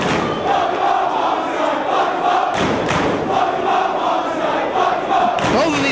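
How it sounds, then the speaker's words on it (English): A wrestling arena crowd in Dayton roars and chants continuously during a Ring of Honor match, loud sustained crowd noise with a couple of sharp swells and bursts. "Listen to this crowd in Dayton."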